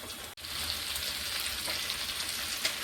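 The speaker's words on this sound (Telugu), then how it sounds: "కొంచెం వేగిన తర్వాత ఉల్లిపాయ ముక్కలు, పచ్చిమిర్చి అవన్నీ వేసుకొని ఒకసారి ఫ్రై చేసుకుందాం" Onion pieces and green chillies sizzle steadily in a hot pan for kebab-style chicken pakoda, a close, even crackle with a brief stir-like break near the start and no talking.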